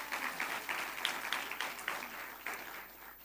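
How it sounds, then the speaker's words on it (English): A round of applause from the audience at a World Intellectual Property Day ceremony, a quiet, fairly distant patter of clapping that holds steady for a few seconds. "Round of applause for that."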